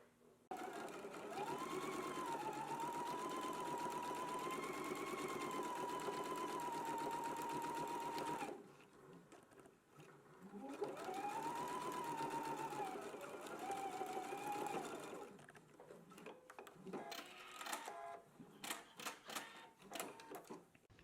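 A sewing machine runs a straight stitch along a seam in two long steady motor runs with rising and falling pitch, followed by short bursts of clicking and stitching.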